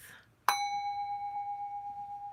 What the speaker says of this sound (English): Let's ring the bell and take a deep breath